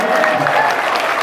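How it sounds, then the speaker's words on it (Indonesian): Audience applause at a stand-up comedy show, a steady wash of clapping that fills the whole moment with no pauses, loud and close. "Ya tepuk tangan dong"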